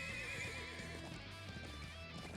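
Thoroughbred war horses from a noble family's stables in Trails of Cold Steel IV, whinnying loudly and close with a long, wavering neigh over faint hoof clatter.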